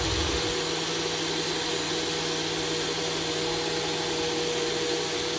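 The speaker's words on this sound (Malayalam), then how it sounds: "ഇനി ഇത് ഒന്നും കൂടെ ബ്ലെൻഡ് ചെയ്തെടുക്കാം" An electric blender whirs steadily while blending a mango dessert with ice cream, a loud continuous motor drone that holds without a break for the whole stretch.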